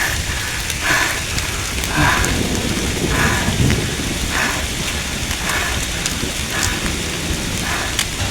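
Heavy rain pours during a thunderstorm on the Mount Kerenceng trail at night, a dense, loud, continuous hiss with low rumbling beneath and soft recurring swells, close and enveloping, no talking.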